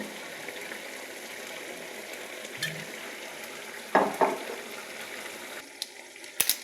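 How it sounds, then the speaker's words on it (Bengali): Mixed vegetables fry with a ground spice paste in a pan, a steady low sizzle with a few sharp stirring scrapes and clinks near the end, no voices. "সেই পেষানো মশলাটাও দিয়ে এবার ভাজতে থাকবো"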